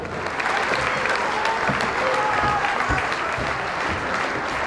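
A dense, sustained burst of applause from a large crowd, steady and loud throughout, with some cheering mixed in.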